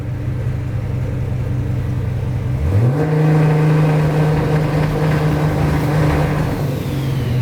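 A turbocharged car engine with a large turbocharger idles at a low steady rumble, then is revved up to a sustained, loud higher-pitched drone during launch tuning, holding near 3,000 rpm as boost builds.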